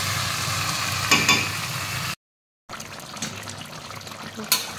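Chicken cooking in a pan with spring onion greens gives off a steady, moderate sizzle and bubbling hiss with a few louder spikes, cut by a brief total silence midway before the simmering resumes.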